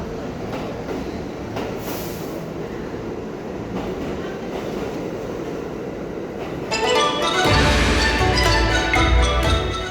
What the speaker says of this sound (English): we jumped on the subway and headed south